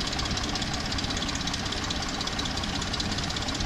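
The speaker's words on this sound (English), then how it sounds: "I think it's a tensioner on the timing chain" A Jeep engine runs with a steady, fast metallic rattle blamed on a worn timing chain tensioner, a continuous close-up clatter over the idle hum that holds evenly throughout and then cuts off abruptly.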